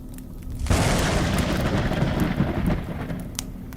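Loud rolling thunder in a horror story, a broad rumble that bursts in suddenly under steady rain and holds strong for several seconds before slowly easing, with no voices.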